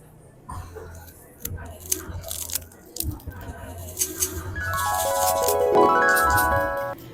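Someone bites into crunchy, crispy deep-fried pork knuckle (crispy pata), giving crackly chewing crunches close to the mic, with someone talking around the bites and a rising musical tone near the end.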